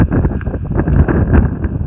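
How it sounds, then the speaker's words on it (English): Gusty wind buffeting the microphone on the Appalachian Trail in Virginia, a loud, low, rumbling roar that surges and eases without pause. "The gusty, never-ending winds in Virginia."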